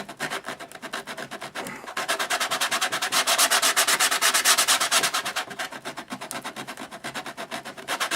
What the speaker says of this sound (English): you can sand that down